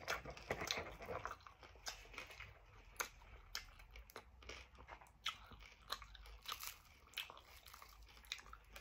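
Someone bites and chews crispy pata, a fried pork leg, close to the mic. Crackly crunches repeat in an uneven rhythm, fairly quiet, with no talking.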